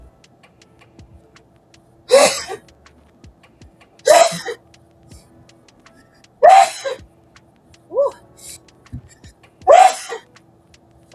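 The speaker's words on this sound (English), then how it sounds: "that was like 4 sneezes" Four or five sharp sneezes burst out in a row about two seconds apart, loud and close, with a faint exclamation after one and quiet room tone between them.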